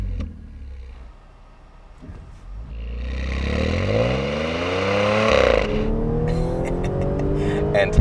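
A 2013 Audi S4 engine rises from a low idle into a strong, climbing acceleration roar that sweeps up through the gears, close and loud with no talking.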